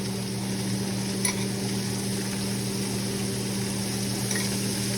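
Chicken pieces seasoned with salt and pepper fry in ghee, clarified butter, in a pan, giving a soft, even sizzle under a low steady hum, with one small clink.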